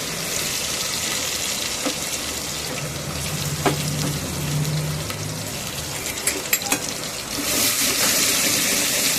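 Chopped onion hits hot, smoking oil in a home kitchen, raising a steady broadband sizzle that holds throughout and swells louder near the end, with a few brief clinks over it and no talking.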